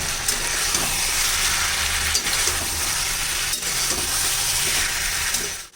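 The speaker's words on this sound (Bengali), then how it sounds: "মশলাগুলোর সাথে সবজিগুলো ভালো করে আমি কষিয়ে নিয়েছি।" Vegetables and spices sautéing in a pan give a dense, continuous sizzle with occasional soft stirring scrapes, close up and without speech.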